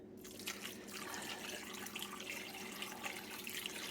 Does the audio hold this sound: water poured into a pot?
yes